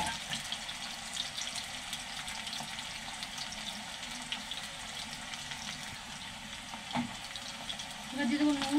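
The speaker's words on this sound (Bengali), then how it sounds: "তেলের মধ্যে দিয়ে দেবো টুকরো করা আলু," Cut potato pieces frying in mustard oil in a wok for a soybean mince dish: a steady, close sizzle throughout, with a brief clatter near the end and stirring as the frying grows louder.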